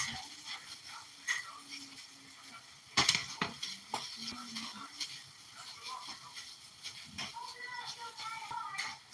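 A hand-formed salmon patty fries in a pan under a quiet background sizzle, with a sharp clatter of utensils and pan handling. Someone talks intermittently over the cooking.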